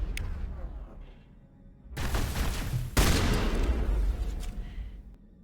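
Gunfire in Mass Effect, the sci-fi shooter, comes as sustained, loud bursts that surge abruptly and keep up for several seconds, following a quieter stretch of rumbling background.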